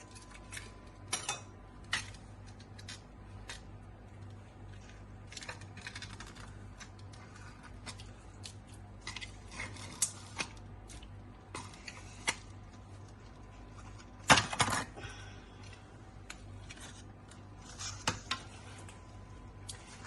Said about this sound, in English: you're going to stir until the cream cheese has fully dissolved